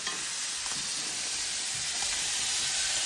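Butter sizzles in a hot pan before a ribeye steak goes in, giving a steady, bright, hissing crackle that continues unbroken and stands alone without talk.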